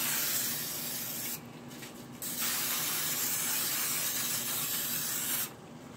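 Olive oil cooking spray hisses from a can onto a container being greased for a Dominican arepa, with two distinct close spray bursts, one about a second long and another near the end.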